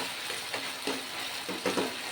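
Hilsa fish head curry stirred in a pan, with a steady frying sizzle and a few soft scraping strokes.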